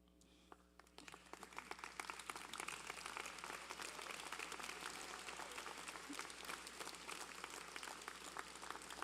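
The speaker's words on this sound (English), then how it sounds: "now would be a good time to stand, turn around, and applaud those who have helped you" Standing audience applause at a university convocation ceremony: after a brief quiet start, steady crowd clapping swells in and carries on evenly, fairly distant and reverberant in a large hall.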